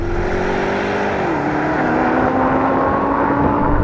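An Audi R8 and an Audi RSQ8 accelerate hard side by side in a rolling drag race from 50 mph, engines in manual mode roaring loud and steady while the pitch climbs, drops at a gear change, then climbs again.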